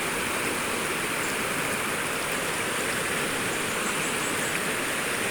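River water flows continuously at a riverside spot used for ablution, a steady broadband rush close by with no pauses and no voices.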